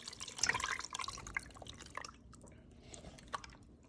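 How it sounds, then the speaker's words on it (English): Marinade is poured into a pot holding Cornish hens and onions: a soft splashing, dripping pour that trails off into a few scattered drips, quiet and close. "your marinade, you just want to pour in there"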